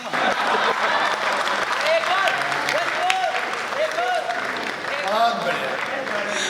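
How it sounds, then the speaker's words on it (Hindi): Audience at a Hindi comedy poetry gathering claps steadily, a continuous crowd patter, while a performer's voice carries on over it with short sung or spoken phrases. "सारे लोग ताली बजाओ वरना डांस करके दिखाऊंगा।"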